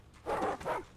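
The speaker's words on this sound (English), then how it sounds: "Oh, doggy, no!" A dog in the video game The Eternal Castle gives two quick, muffled bow-wow barks close by, with no speech over it.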